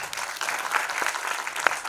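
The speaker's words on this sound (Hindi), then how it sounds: "एक बार जोरदार तालियां हो जाए प्रवीण हिंगोनी और हमारे राइटर।" An audience gives sustained, dense applause, many hands clapping steadily and evenly throughout.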